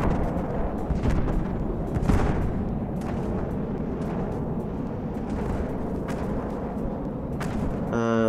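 Stealth cluster bombs launching in the naval combat game From the Depths make a continuous rumbling barrage of booms and gunfire-like thuds, one sharper blast standing out near the start, loud and steady throughout.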